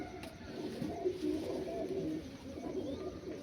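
Malwai pigeons cooing softly nearby in repeated low, throaty phrases over a quiet background, with a faint voice murmuring.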